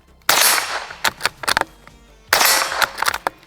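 Savage Mark II .22 rifle firing Mini-Mag rounds: two sharp, close cracks about two seconds apart, each followed by clanks and rattles.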